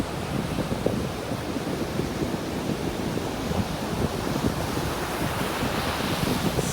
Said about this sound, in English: Have waves in Miami.